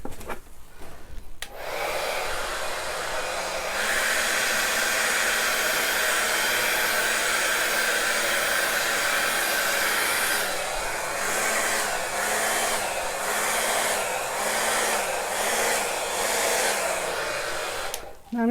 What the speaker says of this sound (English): I'm going to blow it with my blow dryer into the paint